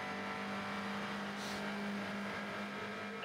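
A GTE AM race car at the 24 Hours of Le Mans drones steadily with a sustained engine whine, distant and continuous, with no talking.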